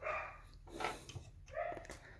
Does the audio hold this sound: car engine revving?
no